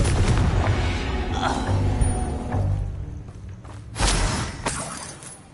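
A Confringo spell explosion in a Harry Potter video game, bursting with crackling, shattering booms, a second sharp blast near the end, no talking.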